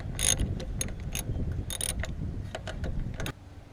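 A ratchet wrench backs out 10 mm bolts on the carburetor float bowl of a Craftsman lawn tractor, giving rapid, close metallic clicking in short bursts that stops abruptly near the end.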